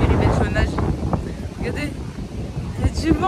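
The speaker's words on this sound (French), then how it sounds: "Regardez, il y a du vent carrément." Wind gusts across the microphone beside a lake on a warm day. The blustery rumble runs steadily throughout, and people talk over it.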